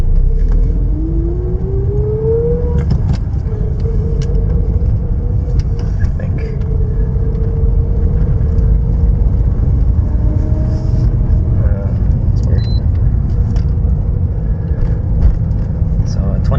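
A Mitsubishi Galant VR4 with a turbo timer fitted drones steadily while being driven, its engine tone rising and falling with revs under a constant road rumble heard from inside the car.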